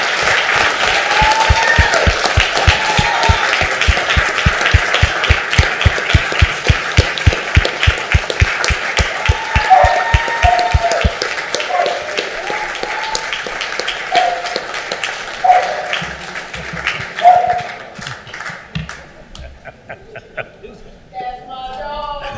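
Sustained audience applause and cheering fill a city council chamber, dense rhythmic clapping near and loud for about eleven seconds, then thinning into scattered claps, whoops and laughter as an official begins speaking.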